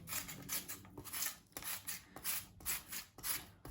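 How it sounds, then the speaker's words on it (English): Two medium peeled potatoes rubbed over a hand grater into thin strips for chiftele, a close, rhythmic series of rasping strokes repeating about every half second with brief pauses, no talking. "you want to grate the potatoes down to be like thin strips like this"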